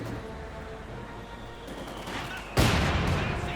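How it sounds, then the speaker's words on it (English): MG42 machine gun opening fire in the World War II strategy game Company of Heroes 2, a low battlefield rumble that suddenly breaks into a loud, sustained burst of gunfire. "MG42 firing at the Grenadiers"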